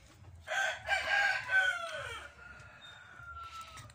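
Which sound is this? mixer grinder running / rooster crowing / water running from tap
rooster crowing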